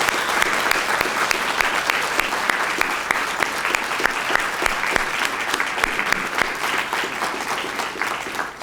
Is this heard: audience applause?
yes